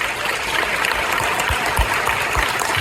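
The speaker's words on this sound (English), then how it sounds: "Well, give these candidates a hand clap." Audience applause for the candidates at a congressional candidate forum, a steady wash of clapping at moderate volume with no talk over it.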